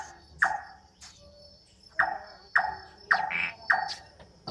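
Crickets in a night forest at the Singapore Night Safari keep up a continuous high chirring chorus, while another animal's louder calls repeat about once a second over it.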